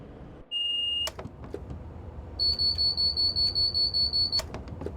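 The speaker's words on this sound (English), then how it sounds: "alarm's going off without me even seeing it like visually outside the cab" Train cab alarm aboard a Class 390 in Train Simulator Classic: a short tone, then a rapid run of repeated electronic beeps, loud and close over low cab rumble.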